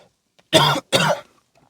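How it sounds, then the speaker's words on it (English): Two forceful coughs, close to the mic, separated by a brief pause, with quiet surroundings. "sorry, there's a cough."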